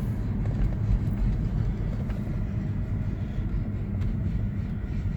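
A 2004 Mercedes S55 is driven on the road, with a steady low engine drone and road rumble heard from inside the cabin, holding fairly even with no sharp surges.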